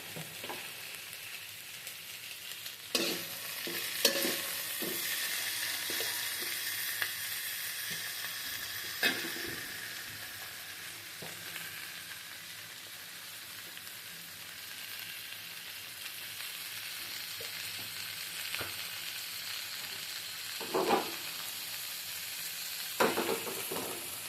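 Eggplant and potato slices frying in oil, a steady close sizzle running throughout with occasional scraping and clinking stirs, no voices.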